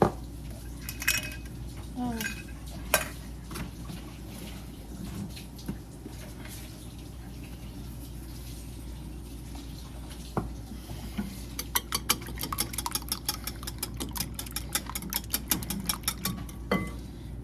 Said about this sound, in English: Whisk up the eggs.